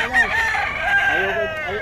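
A rooster crows once in a long, drawn-out call, clear and fairly close, with faint background noise.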